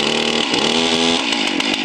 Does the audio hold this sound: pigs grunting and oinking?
no